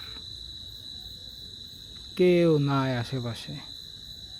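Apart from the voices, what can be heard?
crickets chirping at night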